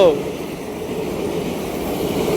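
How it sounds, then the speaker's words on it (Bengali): The Lalgola–Howrah Express rumbles past close by, a steady broad roar that holds at the same loudness throughout. "এই দেখো দেখো দেখো, ট্রেন যাচ্ছে, লালগোলা হাওড়া এক্সপ্রেস।"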